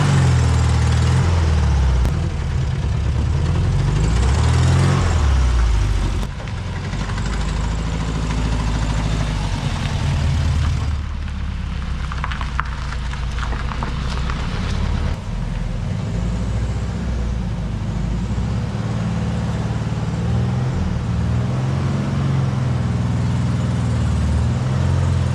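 A 1967 VW Beetle engine runs steadily at close range, a constant low drone that shifts slightly in pitch as the car drives, with a brief dip partway through and a rougher patch after.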